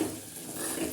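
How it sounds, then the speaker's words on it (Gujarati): Okra curry with chili being stirred in an oil-filled pan: a soft, steady scraping swirl under a low sizzle, close and continuous with no speech. "હલાવી લેશું।"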